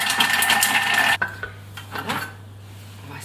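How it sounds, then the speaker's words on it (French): A Thermomix TM6 chops a garlic clove in a short burst at speed 5, a loud whirring blade chatter lasting about a second before cutting off abruptly, followed by faint clicks and rattling. "on va mixer pendant 5 secondes sur vitesse 5"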